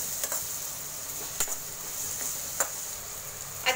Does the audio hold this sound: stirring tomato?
yes